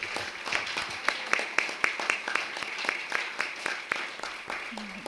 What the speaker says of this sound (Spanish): gracias a la maestra Rosalba Cortés Viveros, un fuerte aplauso para ella